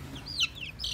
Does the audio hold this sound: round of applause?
no